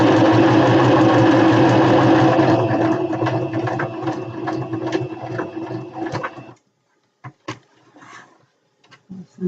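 A sewing machine stitching a satin drawstring bag hums steadily and loudly for about six seconds, then stops, leaving scattered soft clicks and handling noises.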